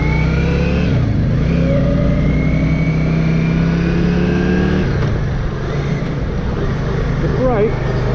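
A Yamaha XV535 Virago V-twin motorcycle runs on a ride, its engine note rising and falling through gear changes, loud and close with wind rush, and a rider talking over it.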